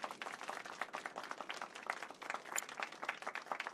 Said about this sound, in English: let's give our pianist a warm round of applause.